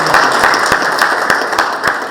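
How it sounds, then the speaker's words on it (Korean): A crowd applauds at a council meeting on farm policy, dense, steady clapping, individual sharp claps standing out over the continuous patter. "우리 안치종 수사님께 큰 그 박수로 감사드립니다"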